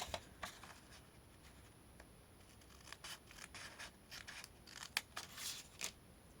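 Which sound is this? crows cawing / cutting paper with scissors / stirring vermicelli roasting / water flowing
cutting paper with scissors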